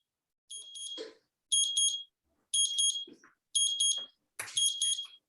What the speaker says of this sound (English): Somebody's beeping.